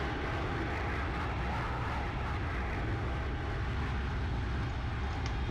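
Airliner engines in a flight simulator spool up during a VATSIM flight from San Francisco to Los Angeles, a steady, dense broadband roar that holds loud and unbroken throughout.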